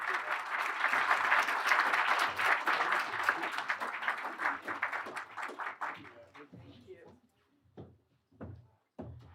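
Audience at a bipartisan elections summit applauding to thank senators, a full burst of clapping that tapers into scattered claps, with some room noise and a voice near the end.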